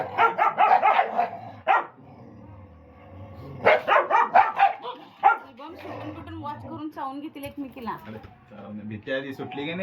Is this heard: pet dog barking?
yes